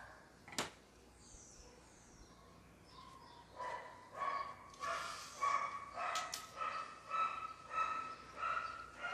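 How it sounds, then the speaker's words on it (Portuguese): A neighbor's dog barks repeatedly in a steady rhythm, fairly distant and moderately faint, with a sharp click near the start. "Não sei se vocês estão ouvindo o uau-au da vizinha"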